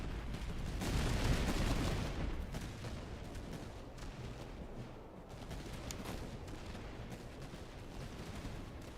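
Cannon and musket fire from a battle in the strategy game Master of Command, a steady rumbling barrage of overlapping shots and booms with no talk.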